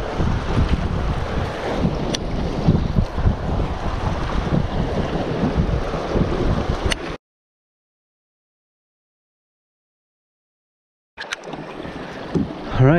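Strong wind roars steadily across the microphone on a fishing boat near a cliff on an Ozarks lake, loud and continuous, then cuts out briefly before gusting back in.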